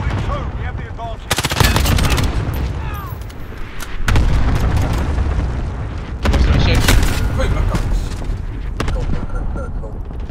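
Cluster strike explosions in Call of Duty Modern Warfare, a hardcore Domination match on Grazna Raid: several loud, heavy booming blasts in bursts over gunfire and battle chatter, with voices talking intermittently.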